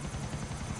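A helicopter in GTA IV gives off a steady, low rotor thrum with a fast, even pulse, heard close for under a second.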